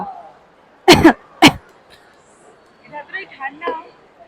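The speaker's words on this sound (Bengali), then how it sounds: "এটা খেয়ে আমার কাশি হচ্ছে" A person eating a cold sizzler dessert in a park coughs twice in quick, sharp bursts, then speaks a few words.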